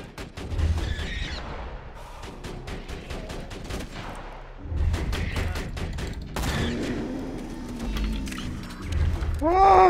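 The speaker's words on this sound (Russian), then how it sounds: "так моя пушечка ее сама разнесла" An automatic turret in Borderlands 2 fires bursts of rapid gunfire, with booms and mechanical clatter loud and close, broken by short pauses, and a brief electronic whine near the end.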